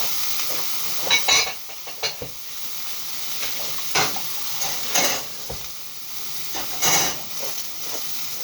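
Sliced pepper and a large onion frying in oil for Hungarian goulash, a steady close hiss and sizzle broken by a few scraping stirs of a utensil against the pan, with no talk.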